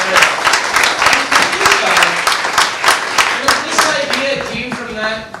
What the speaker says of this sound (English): Let's give them a big round of applause for being here.